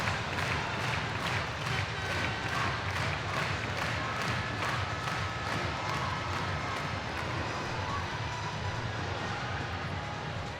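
An ice hockey crowd roars at a Sheffield Steelers home game after a slap shot, a loud, steady wall of cheering with rhythmic clapping or banging pulsing through it for the whole stretch.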